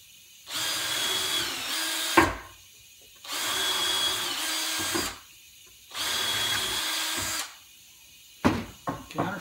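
Power drill countersinking holes in a wooden sawhorse, running in three steady loud bursts of about one and a half seconds each with short pauses between, then a few brief clattering knocks at the end.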